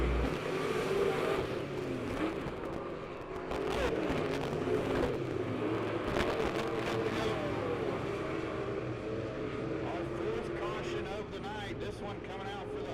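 Race cars lapping Lebanon Midway Speedway during a race event, engine roar rising and falling as cars pass under steady trackside announcer talk.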